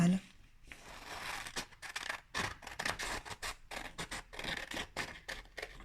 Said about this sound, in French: tu prends tes ciseaux et tu les découpes